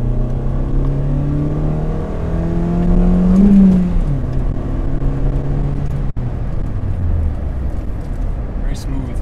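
A Ford Fiesta hums along on a test drive, its engine note rising and falling through gear changes while people talk inside the cabin over it.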